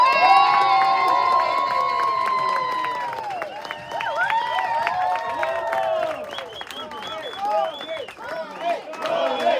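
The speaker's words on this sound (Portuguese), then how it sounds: "Quero que vocês recebam com uma calorosa salva de palmas e muito barulho" A crowd at a lecture and sermon event for real estate brokers cheers, shouts and claps loudly, with excited voices whooping over scattered applause that fades and rises again.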